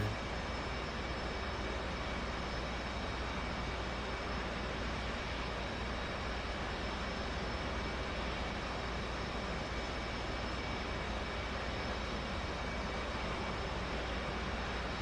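Twin jet engines of an F/A-18 idle steadily in a flight simulator cockpit, a constant loud whine and rumble holding at the same level throughout with no talk.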